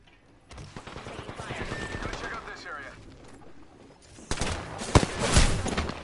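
Bursts of video game gunfire crackle under ongoing talk, growing louder and denser toward the end with a couple of sharp, close shots standing out.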